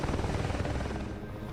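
An attack helicopter fires cannon and rockets in the combat flight simulator DCS World, giving a dense, continuous roar of rotor noise and rapid gunfire that tapers slightly near the end.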